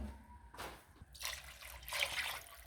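Meat broth saved from boiling beef is poured into a pot of rice for beef pilau, a quiet liquid splash and trickle that swells in two bursts over low kitchen background.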